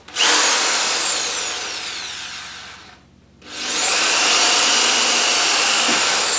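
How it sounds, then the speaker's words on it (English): A power drill whines loudly at high speed, winds down and stops briefly, then spins up again and runs steadily to the end. "How bad is this drill?"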